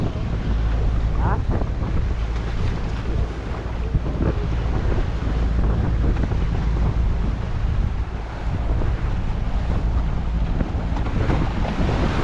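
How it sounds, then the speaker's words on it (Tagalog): Strong wind buffets a small boat moving slowly through big waves on the West Philippine Sea, a loud, constant roar of gusts and churning water, with voices faintly mixed in. "malakas ang hangin at saka maalon"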